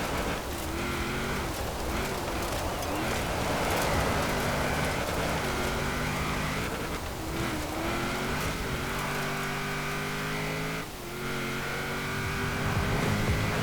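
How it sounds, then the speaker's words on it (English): A 1997 Nissan Skyline GT-R V-Spec races in Forza Horizon 4, its engine droning and shifting pitch steadily as it slides around, with a brief dip near the end before the revs pick back up. "And the Skyline, it really likes to slide around a fair bit."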